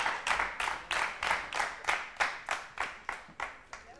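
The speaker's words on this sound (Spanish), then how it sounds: "Yo creo que este es el momento de la ovación" Rhythmic clapping, about a dozen crisp, evenly spaced claps that are closely miked and fairly faint, with a slight hall echo behind each.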